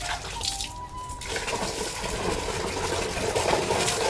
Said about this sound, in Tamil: இதையும் கழுவிட்டு அதையெல்லாம் கழுவி கொடுத்துட்டு